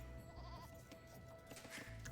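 Goats bleating in the real-time strategy game Age of Empires during a 1v1 match on the Arabia map, several short wavering bleats over a steady game soundscape.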